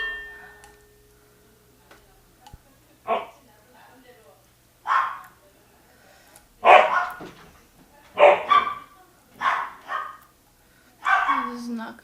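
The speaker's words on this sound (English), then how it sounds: "My dogs are going crazy." Several dogs bark in short separate bursts, loud and close, spaced a second or two apart over a quiet room.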